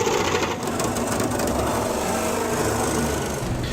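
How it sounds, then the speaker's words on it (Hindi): Drill and gas cutter cutting up plastic and tin drums during a raid on an illegal liquor still in a Bihar village, a loud, continuous mechanical whine and grinding rattle with no pauses. "ड्रिल और गैस कटर मशीन से प्लास्टिक और टिन के ड्रम को काटकर नष्ट कर दिया गया"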